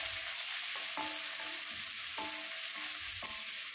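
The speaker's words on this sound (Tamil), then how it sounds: "இந்த வெங்காயம், பச்சை மிளகாயெல்லாம் சேர்த்து நல்லா வதங்கட்டும்." Onions, green chilies and curry leaves fry in a pan for carrot cabbage poriyal, a constant close sizzle broken by repeated scraping stirs of a spoon.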